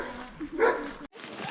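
A husky in Denali National Park gives a short bark and whimper close by, brief and rough, with a little vocal sound around it.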